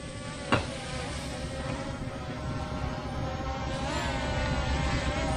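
An S132 GPS drone flies with a steady, faint buzzing whine of propellers that rises slightly in pitch toward the end. A single sharp click sounds near the start.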